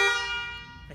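A single short blast from a Toyota Crown car horn, a bright, harmonic tone that starts loud and fades away within a second.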